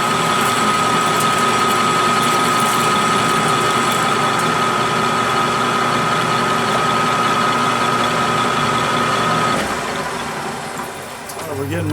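A milling machine cuts metal at a high feed rate, giving a loud, constant high-pitched whine over a mechanical drone that holds steady, then eases off and changes character near the end.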